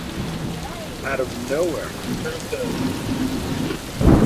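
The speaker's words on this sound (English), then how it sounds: "It's raining." Steady rain pours with rolling thunder during a summer storm on a 1998 road trip, heard from inside a vehicle; a voice talks briefly over the downpour and a louder thunder burst lands near the end.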